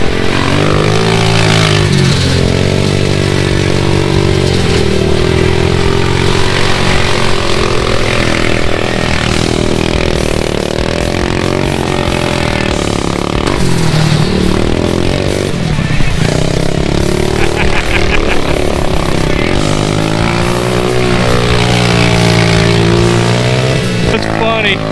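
Racing lawn mower running on an underpowered four-wheeler engine, a loud steady motor drone with rising and falling revs that continues for the whole stretch, with a voice speaking over it at times.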